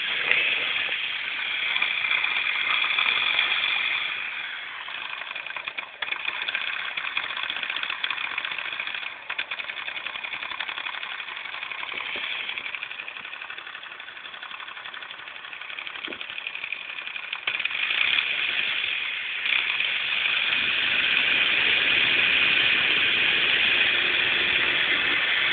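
A Newman motor driven by a PWM voltage step-up boosting a 30-volt input to around 50 volts runs steadily for the whole stretch, a constant close whirring buzz with a rapid ticking texture and no pauses.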